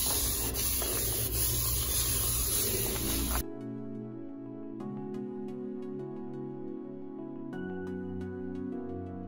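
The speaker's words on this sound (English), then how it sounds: "So spraying this down, and then I can wipe this down and do a time lapse." Windex glass cleaner sprays onto a bathroom mirror in one steady, close, loud hiss lasting a few seconds, then stops and soft, sparse background music carries on alone.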